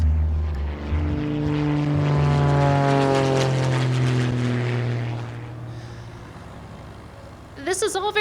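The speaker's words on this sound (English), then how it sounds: "Then Ayers gunned the motor, and we were taking off" A small propeller airplane engine revs up loudly and drones steadily through a takeoff as a radio drama effect, the roar swelling then fading, with a voice briefly heard at the end.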